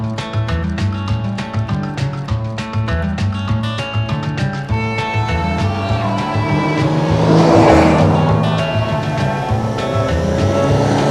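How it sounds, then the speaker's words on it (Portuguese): A Ram Rampage R/T pickup with 272 hp and 4x4 accelerating hard along the Estrada dos Romeiros, its engine note climbing through the gears with shifts, loud and close, swelling to a peak near the end. "pegar então essa picape aqui e acelerar na Romeiros para ver qual é que é"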